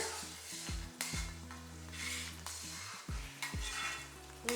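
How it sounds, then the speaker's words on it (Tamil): A pan of thick tamarind mixture bubbles and sizzles up close while a spoon clinks and scrapes against it several times, with no talking. "பாருங்க நல்லா கொதிக்க ஆரம்பிச்சிருச்சு"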